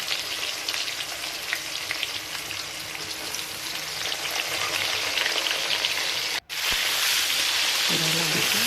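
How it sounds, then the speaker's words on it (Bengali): Potatoes frying in oil with chili and tomato added, a dense continuous crackling sizzle throughout, with a brief cut near the end and a faint voice as it continues. "ভাজা ভাজা আলুটা হয়ে গেছে, এবারে লঙ্কা টমেটো দিয়ে দিচ্ছি।"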